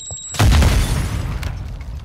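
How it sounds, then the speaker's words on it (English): A Semtex grenade detonates in a multiplayer shooter game with one loud, close boom after a brief quiet moment, then a rumbling tail that slowly fades. "Semtex incoming!"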